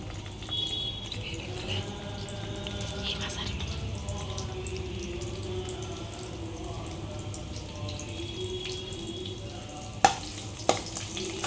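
Green chillies, mustard seeds and cumin fry in hot oil for masala semiya, a low continuous sizzle with light crackling and a few sharp clicks near the end.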